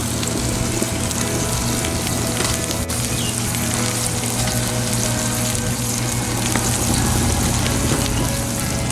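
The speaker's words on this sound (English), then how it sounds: "here's the butter melted with the herb spice on it" Melted butter with herb spice sizzles in a pan, a steady close hiss and crackle that carries on without a break and without speech.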